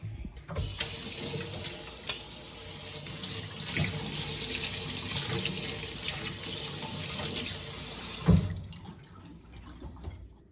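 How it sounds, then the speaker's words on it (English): Tap water runs steadily into a kitchen sink while a finger is rinsed, a close continuous splashing that stops abruptly near the end. "Let me wash my finger now."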